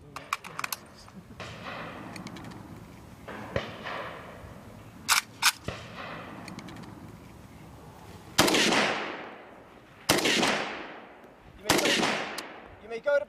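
A historic machine gun fires several sharp, loud bursts at a demonstration range, each burst a tight rattle of rapid shots followed by ringing echo and decay, with quieter single reports and faint voices between them.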